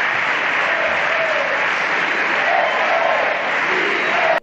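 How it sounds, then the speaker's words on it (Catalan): Parliament deputies give a dense, loud, sustained round of applause with some cheering, steady throughout and cut off sharply at the end. "Els diputats dels Comuns ho van celebrar cantant «Sí se puede»"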